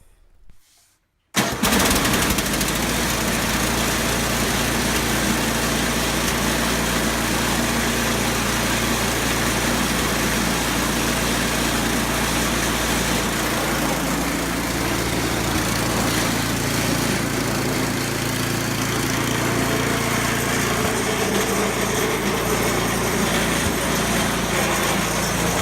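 A Yard Machines snow blower with a newly fitted electric starter cranks and fires up, then its small engine runs loud and steady at close range without any talk.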